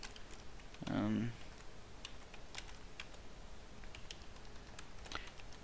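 Light clicks of keys on a computer keyboard as a username is entered, sparse irregular taps spread across several seconds, with a brief spoken word near the start.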